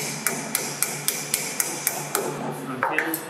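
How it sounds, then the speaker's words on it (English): A hammer taps an arthroscopic surgical instrument down into place, about a dozen sharp, evenly spaced metallic strikes at a quick steady rhythm, close and distinct. "We simply hammer that down"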